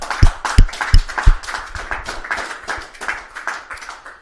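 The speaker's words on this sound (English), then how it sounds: "another great IPA final, so a round of applause for both players" A handful of people clap for both players after an English pool championship final, starting with a few loud close claps, then settling into lighter, uneven clapping from a small crowd.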